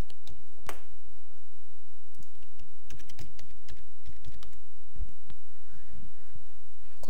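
File name being typed on a computer keyboard, with close, irregular key clicks in quick bursts over a low steady hum.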